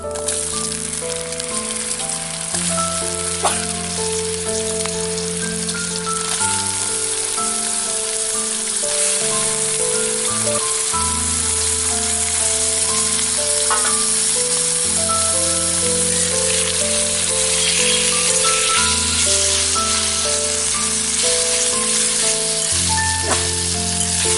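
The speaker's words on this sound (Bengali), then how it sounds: "আলুগুলো একটু ভেজে নিয়েছি" Potatoes sizzle and fry in a pan with a dense, continuous crackle held at steady loudness, all under prominent background music.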